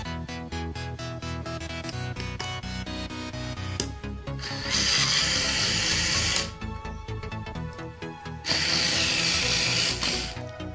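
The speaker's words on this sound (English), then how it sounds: "the motor will start rotating" A small 12 V DC geared motor driven through an L298N motor driver whirs steadily with a gritty mechanical buzz, switching direction partway and surging louder in two bursts.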